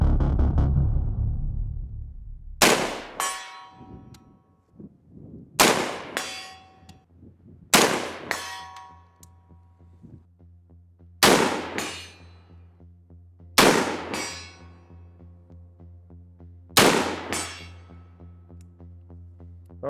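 A Gen-12 shotgun fires six sharp, loud reports at a 100-yard target from the prone position, spaced a few seconds apart, each ringing out with a metallic clang and a fading echo.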